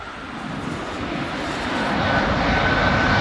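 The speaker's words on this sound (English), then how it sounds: "And sound of this aeroplane." An airliner flying low overhead on approach to Heathrow Airport, a heavy steady jet roar that swells louder as it passes close above.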